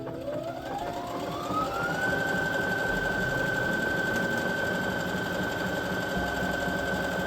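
A Baby Lock Presto II sewing machine stitches a triple stretch straight stitch on knit fabric, its motor whine climbing quickly before settling into a steady, even hum that runs to the end.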